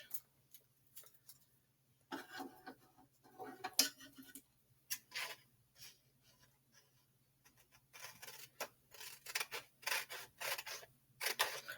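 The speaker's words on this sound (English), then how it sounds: "you want to trim off all of the white around your image" Scissors snipping away the white paper border around a sublimation print on a tabletop: a quiet, irregular run of short crisp cuts and paper rustles, with a low steady hum running underneath.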